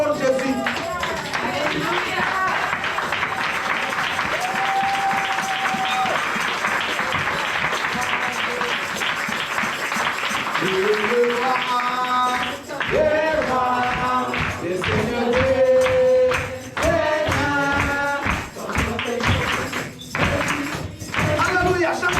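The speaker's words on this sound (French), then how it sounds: "J'aimerais qu'on se mette debout et qu'on acclame très très fort Jésus." A church congregation on its feet applauds and cheers loudly for Jesus, sustained crowd clapping mixed with raised shouting voices that carry on throughout, loud and close.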